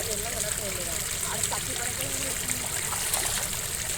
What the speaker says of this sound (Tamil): நம்ம தோட்டத்துக்குள்ளே தான் தண்ணி போயிட்டுருக்கு